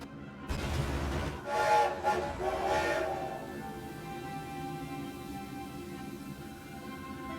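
A train in the video game Skylanders: Spyro's Adventure gives a loud horn-like blast and a rumbling rush, then settles into a steady mechanical drone, with no speech over it.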